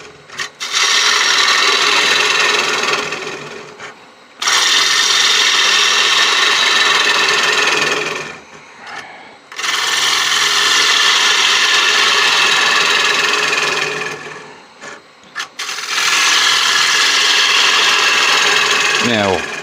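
A lathe gouge hollows out the middle of a wooden coin dish in four long, loud, close passes of steady rough scraping over the spinning lathe. Each pass is separated by a brief pause.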